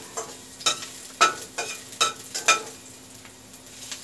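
Ginger sizzles in a frying pan while being stirred, with about half a dozen sharp scraping strokes in an uneven rhythm over a faint, steady frying hiss, close and moderately loud.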